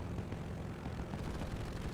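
The aircraft engine of an A-35 fighter plane in a video game drones in a loud, steady, rough roar with no break and no talk over it.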